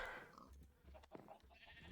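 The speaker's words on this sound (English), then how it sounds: "We have sheep." Sheep bleating on an animal farm in Minecraft, a few soft wavering bleats spread across a short quiet stretch, fairly faint with no talking.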